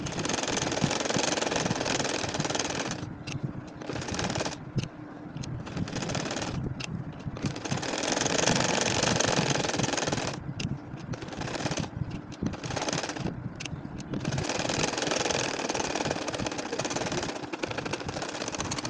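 An ordinary sewing machine stitches a nakshi kantha quilt, a close, loud, continuous rapid mechanical whirring that runs in long bursts with brief pauses between.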